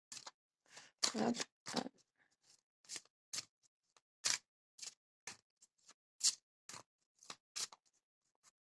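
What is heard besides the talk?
shuffling a deck of cards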